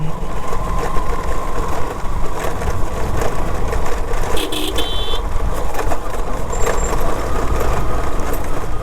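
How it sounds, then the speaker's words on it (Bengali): A vehicle horn honks from behind amid steady traffic noise on the Kalurghat Bridge at night, with a few brief, high toots standing out over the constant loud road rumble. "পেছন থেকে আমাকে হুদায় হর্ন দিতেছে"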